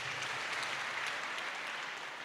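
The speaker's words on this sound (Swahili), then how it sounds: "Tupige Yesu makofi tafadhali." Church congregation at a live Kikuyu Sunday service clapping together, a dense, even wash of applause filling the short moment with no speech over it.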